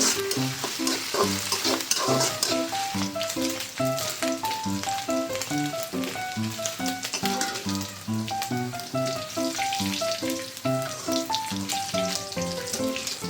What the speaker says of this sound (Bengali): এরপর গরম কড়াইয়ে দিয়ে দেবো সরিষার তেল। দেন দিয়ে দেবো ম্যারিনেট করা মাংসটা।